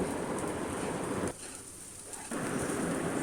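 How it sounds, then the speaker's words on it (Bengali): Rice frying and bubbling in a pot for pigeon biryani, a dense crackling sizzle that briefly softens midway and then returns at full strength, with no talking. "শব্দ শুনে অবশ্যই আপনারা বুঝতে পারছেন কীভাবে চালগুলো ফুটতে শুরু করেছে"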